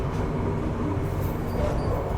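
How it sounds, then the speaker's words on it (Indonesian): A Ranggajati passenger train rumbles along the rails in a continuous, dense low roar heard from on board, with no breaks. "Kereta api Rangga Jati belok ke kiri ke arah Jember."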